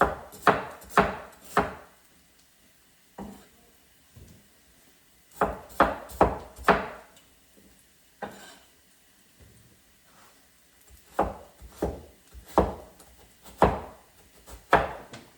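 Ingredients for beef and tomato soup being cut with a knife on a wooden board, clusters of loud close chopping thuds separated by short quiet pauses, no talking.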